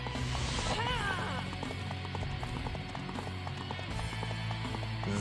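Horse hooves clip-clop in the battle game Dynasty Warriors 4, a quick steady galloping rhythm heard at moderate distance beneath game music and battle ambience, with no clear speech.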